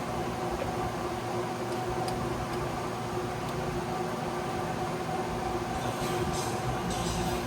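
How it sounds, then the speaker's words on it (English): A Lagun American Turnmaster 13 x 40 inch engine lathe runs with its carriage under power feed, giving a continuous mechanical whir and rumble with faint ticking and no speech. "Now the carriage. Pulling it in. That's your carriage feeding."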